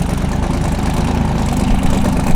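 An IE-tuned Volkswagen Golf R idles up close with a loud, steady, low rumbling engine drone and a faint rhythmic pulse throughout.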